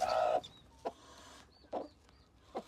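Guinea fowl chicks kept in a small enclosure give a few short, sharp peeping calls spaced apart, close and fairly clear, with a thin whistling cheep in between.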